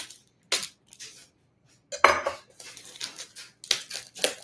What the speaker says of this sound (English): now we're going to take one of the cucumbers and cut up a cucumber